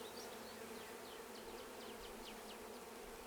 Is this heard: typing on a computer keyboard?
no